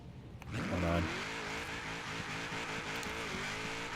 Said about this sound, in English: I'm not used to turbocharged cars like this, really. I don't generally do V8s with turbochargers.